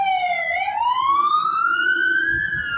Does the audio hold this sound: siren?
yes